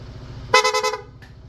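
Honda ADV160 scooter horn in rapid mode: a short burst of quick, stuttering toots lasting about half a second, loud and close, followed by a faint second blip.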